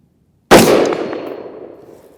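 A single loud, close 5.56 rifle shot fired with Magtech 77-grain OTM ammunition, a sudden sharp blast that rings and slowly decays over about two seconds.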